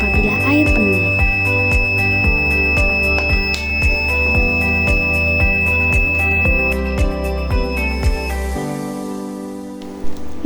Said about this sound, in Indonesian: Kemudian, buzzer akan berbunyi apabila air penuh.